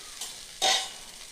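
Ghee dosa frying on a hot pan in a home kitchen, a soft steady sizzle swelling into a louder hiss for a moment before settling back, with no voices.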